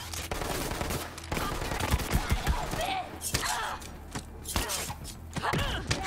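Rapid SMG fire in Borderlands 3, bursts of sharp crackling shots in quick succession with thuds and impacts, loud and close, mixed with game effects and a voice talking over parts.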